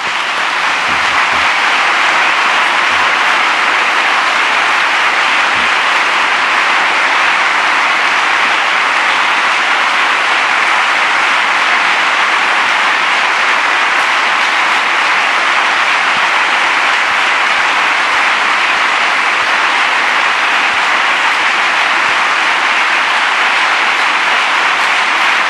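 Sustained applause from a church gathering as senior women educators are ushered in; a dense, continuous wash of clapping, loud and even throughout with no pauses.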